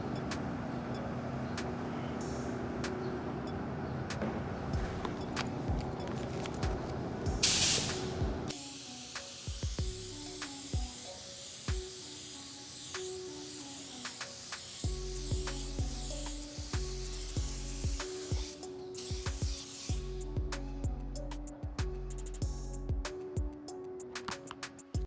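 A paint spray gun loaded with micro flake sprays onto a car body in a long steady hiss, broken by brief pauses and a shift in tone, with the gun's trigger clicking now and then close by.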